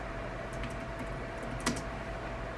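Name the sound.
typing on a computer keyboard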